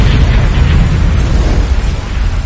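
A prehistoric Siberian volcanic eruption blasts lava skyward as a loud, sustained deep roaring rumble with churning low-end booms, heard alone without talk.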